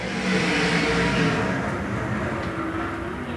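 A pack of ASCS sprint cars roaring off at the green flag of a heat race at Arizona Speedway, a dense, loud wall of engine noise that swells and then holds steady at a distance.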